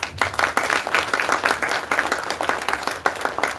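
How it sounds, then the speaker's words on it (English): Audience applause welcoming a professor to the stage at a philosophy lecture, a dense steady wash of many hands clapping at close to moderate distance, lasting a few seconds with no talking over it. "Please join me in welcoming Professor Akeel Bilgrami to the stage with a huge round of applause."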